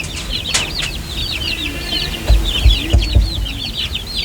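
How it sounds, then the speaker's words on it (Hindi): Aseel chicken chicks peep and chirp in rapid overlapping calls, with a few soft thumps and low clucks underneath. "और ये असील मुर्गी के चूज़े हैं।"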